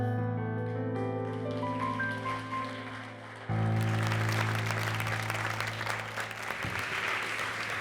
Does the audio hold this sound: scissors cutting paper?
no